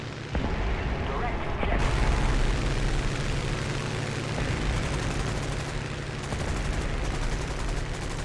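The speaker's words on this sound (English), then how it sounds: "Drop the bombs." Bombs dropped from an aircraft in War Thunder explode as heavy booms over a constant engine drone, with distant rumbling and a player talking throughout.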